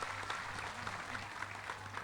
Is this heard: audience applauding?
yes